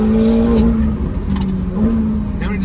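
A McLaren sports car engine in Sport mode drives on as the gears change, with a steady drone, a brief dip and cut in the sound, and faint crackles over the top.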